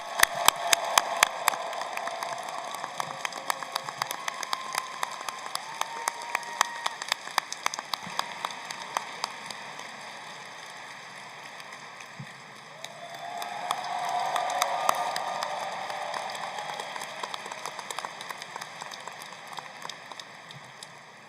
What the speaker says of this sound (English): Please give a round of applause to Bihua Zhang